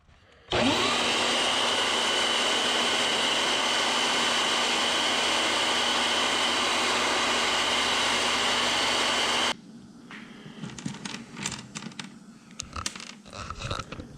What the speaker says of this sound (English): I'm just going to use my belt sander, my hand belt sander turned upside down here, and just round these ends over